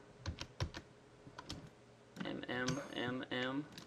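Computer keyboard keys are pressed while working in graphic design software: a handful of sharp, separate clicks, then a voice talks over more typing.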